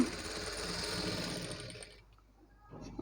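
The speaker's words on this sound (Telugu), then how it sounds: "ఇప్పుడు నేను స్టిచ్ చేసేది కొంచెం క్లాత్ స్టిఫ్గా ఉంది కాబట్టి నేను ఇలా డైరెక్ట్ స్టిచ్ చేసేస్తున్నానండి" Sewing machine stitching stiff blouse fabric, a close, steady mechanical whir for about two seconds that stops, then a faint brief restart.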